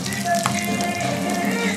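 Whole spices tempering in hot oil for curd rice, a steady close sizzle and crackle with no voices over it.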